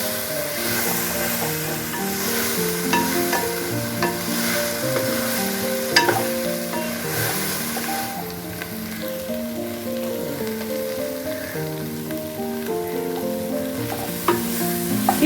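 Sliced ladies fingers (okra) frying dry in a pan, a continuous close sizzle with occasional sharp pops, heard under steady background music.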